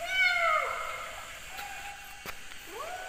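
A small stray kitten living in a drain pipe gives a few high, drawn-out meows, one at the start and others later, fairly close and clear over faint background noise.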